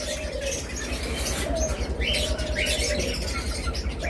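Pet lovebirds, cockatiels and budgerigars in a bird shop, with faint scattered chirps and tweets over a constant low hum and rustling background; no talk.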